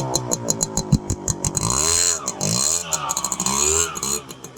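A Honda CDI 100cc motorcycle revs and rides away, its engine note rising and falling in pitch through a few throttle surges before fading slightly toward the end.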